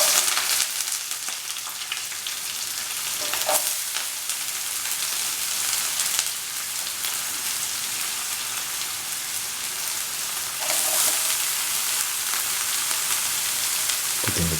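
Onions frying in a pan of hot oil with burst mustard seeds, the first step of a tomato stew, give a steady, dense crackling sizzle with a few louder spits and no talking.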